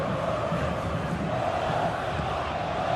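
A packed stadium crowd in the PES Football Life 2026 football video game gives off a steady, dense roar of massed voices and cheering that holds at an even level throughout.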